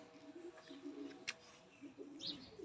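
A red-eyed pigeon gives soft, low, repeated coos in a quiet, faint setting, the rolling calls coming in short phrases with brief pauses between.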